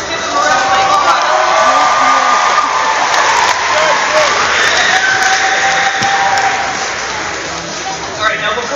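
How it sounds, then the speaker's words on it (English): A college audience at a martial arts board-breaking demonstration applauds and cheers loudly and continuously, with a few shouts rising above the crowd before it eases off slightly. "Give them a round of applause."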